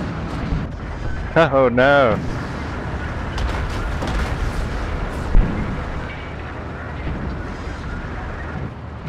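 Artillery fire and explosions rumble from the Dawn of War 2 Retribution strategy game as shells land in a tank battle, deep booms under an excited voice that talks throughout, one sharp thud midway.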